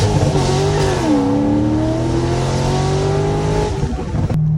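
A Corvette Z06 sports car accelerates hard. Its loud, close engine note climbs steadily in pitch, holds as a sustained roar and then cuts off abruptly near the end.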